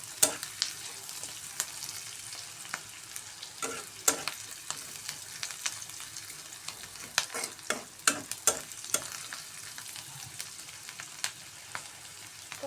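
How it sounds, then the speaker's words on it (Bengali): Onion, garlic and green chili frying in oil for a lentil dal tempering, with a steady sizzle broken by repeated clicks and scrapes of a spoon stirring the pan, close and moderately loud. "লাল লাল করে ভাজতে হবে।"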